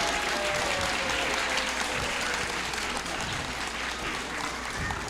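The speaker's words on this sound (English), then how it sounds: "Another round of applause." Dense, sustained applause from parents and audience at a Chinmaya Vrindavan gathering honoring kindergartners, a continuous wash of clapping at close range.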